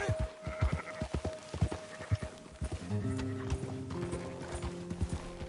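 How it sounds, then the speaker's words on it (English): Horse hooves clip-clop in Red Dead Redemption 2, a steady run of close, sharp beats over the first three seconds before a sustained tonal layer takes over, with a brief whinny-like call mixed in. "Get a hold of that horse, will you?"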